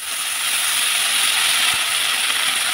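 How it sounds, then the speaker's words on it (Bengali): Mustard seeds and dried red chillies sizzling in hot oil as a tempering, a steady bright hiss with fine crackle, close and continuous, with no talking. "একটু সর্ষে ফোড়ন আর একটু শুকনো লঙ্কা দিয়ে দিলাম, ফোড়নটা একটু চড়বড় করে আওয়াজ হলেই শাকটা ধুয়ে রেখে দিয়েছি"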